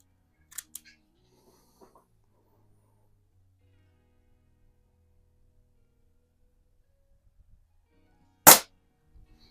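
Single sharp air pistol shot from an Air Venturi Comp 10 firing wadcutter pellets at a target 7 yards away, a short crisp crack near the end after faint mechanical clicks, otherwise quiet.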